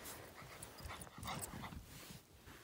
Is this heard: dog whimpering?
yes